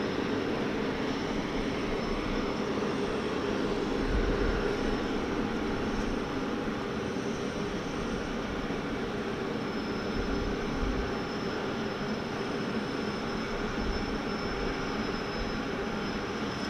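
A Singapore Airlines A380 at Sydney Airport, a loud, steady, broad engine roar with a deep rumble held for the whole stretch, no voices.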